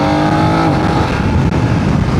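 A 2026 BMW F900 GS Adventure motorcycle engine revs hard in third gear around 4000 rpm and climbs steadily in pitch, a continuous throaty roar close by with no pauses.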